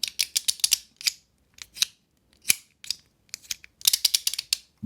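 Sharp, bright clicks in quick bursts from a small cupronickel or zirconium haptic fidget slider coin being rotated, some runs rapid, others single ticks with short pauses between.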